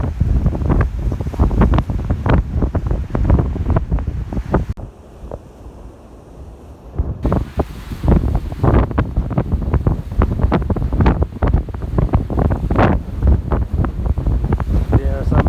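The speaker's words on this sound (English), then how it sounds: "Quite windy here." Steady wind gusting against the microphone on a coastal rock park, a loud, continuous rush with brief lulls, and faint surf in the background.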